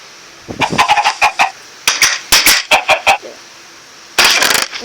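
Minecraft chickens cluck loudly and close up in repeated short bursts, several quick clucks grouped together with brief pauses between groups.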